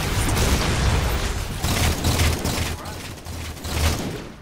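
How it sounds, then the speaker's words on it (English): Grenade blasts in the Halo 4 video game, a series of heavy, rumbling booms and bursts in quick succession amid loud battle noise, close and forceful. "Grenades!"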